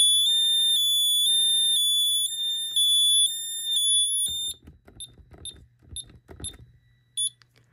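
An Ademco Vista 10SE alarm sounds a steady two-tone electronic beep, high pitches alternating evenly, then cuts out and gives way to scattered short beeps, clicks and handling noise.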